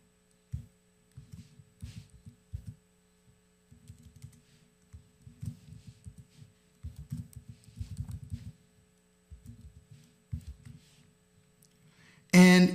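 Someone types a password on a computer keyboard, making bursts of rapid, close, fairly soft key clicks with short pauses between runs over a steady low hum, ending in a louder click or bump.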